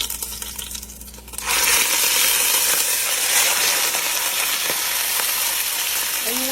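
Beef pot roast sizzles loudly in avocado oil in a hot Dutch oven, a steady close frying crackle that jumps up after a quieter start and holds with small pops.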